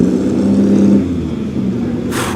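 A classic Ferrari 250 TR racing car at an evening classic car meet gives a loud, deep engine rumble close by, holding a throaty low note before it surges into a sharper, brighter burst at the end.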